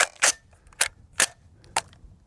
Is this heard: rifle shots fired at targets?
yes